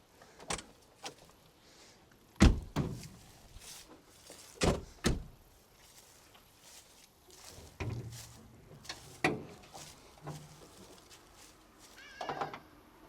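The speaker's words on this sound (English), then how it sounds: "Let me pop over the bonnet." Clunks and thuds of the bonnet of a Mk1 Golf-based CTI with a 1.8 Bosch K-Jet engine being released and lifted, several sharp knocks spaced irregularly over quiet background, close by.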